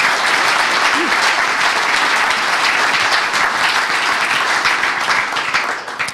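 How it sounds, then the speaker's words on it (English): A large startup-pitch-night audience claps loudly and continuously for the presenters, a thick sustained roar of hands with faint crowd murmur that tapers slightly at the very end. "So I want to give them all a round of applause for how they got here tonight."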